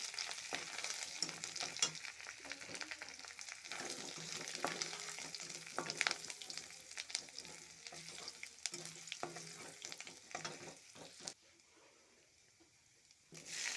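Chopped garlic fries in a pan for a bottle gourd and chana dal dish, giving a continuous close crackling sizzle broken by stirring scrapes. It quiets noticeably near the end.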